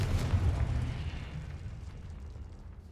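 A Confringo blasting spell explodes in Hogwarts Legacy with a sudden deep boom, followed by a low rumbling roar that slowly fades over a few seconds, heard alone.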